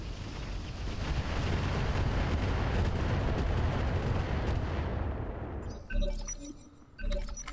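Thumper artillery fires in the mech game Roguetech (BattleTech), a long loud roaring blast that fades over several seconds, followed by two sharp metallic clanks.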